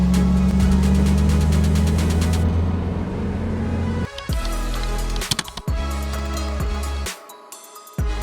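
A Koenigsegg Agera RS engine roars close by with a deep droning tone, then cuts to a series of sharp, choppy bursts and revs before dropping away near the end, loud and unaccompanied by talk.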